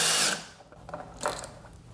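A power tool drives briefly against a bolt on top of a 2006–07 GSXR 600/750 motorcycle gas tank, a short close whir followed by clicks and ratcheting mechanical noises.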